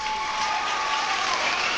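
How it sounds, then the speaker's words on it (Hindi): Continuous wash of applause as a whole kingdom welcomes a returning princess in an animated story, dense and even like steady rain, with no individual claps standing out. "पूरे राज्य ने तालियों से उसका स्वागत किया।"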